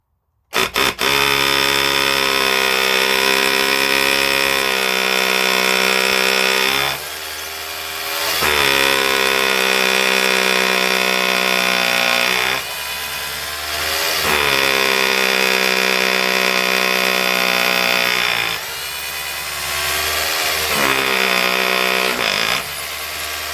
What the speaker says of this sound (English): And now we'll just run through with a 5mm masonry bit.